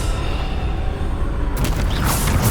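A Bombarda explosion spell in Hogwarts Legacy goes off as a loud, deep rumbling boom. A sharp crackling blast follows near the end.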